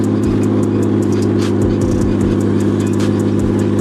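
RB-powered Nissan S13 drift car engine running in second gear on a street, a loud steady droning hum with low rumbling pulses throughout, no talk.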